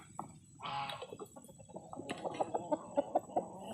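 Backyard hens cluck and squawk close by as they are fed sardines, giving a burst of excited clucks followed by a quick run of short, rhythmic calls, with no talking.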